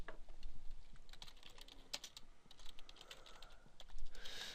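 Fingers tap out text on a computer keyboard while writing in Notepad, a run of quiet, irregular keystroke clicks heard alone.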